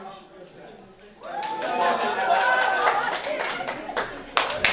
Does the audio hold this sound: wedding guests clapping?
yes